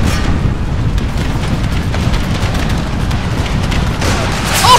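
Cannon fire from the Siege of Richmond video game rumbles as a continuous deep, booming roar that stays dense and loud throughout, without clear separate impacts.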